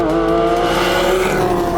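A Porsche 911 GT3 RS sweeps through a fast corner on a race track at about 104 mph, its engine a loud, sustained high-pitched wail with shifting tones and slight tire noise, heard up close without any voices.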